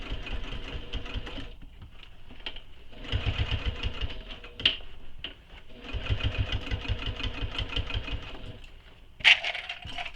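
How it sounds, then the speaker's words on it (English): A sewing machine stitches the sides and bottom of a tote bag in several stop-start runs, close up, with sharp clicks and small clatters of handling between bursts. "So all I'm doing is sewing around the sides and the bottom"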